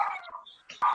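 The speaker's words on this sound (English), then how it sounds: "Dog wants to speak." A dog barks nearby, two or three short sharp yaps separated by a brief quiet gap, clear and moderately loud with no talking over them.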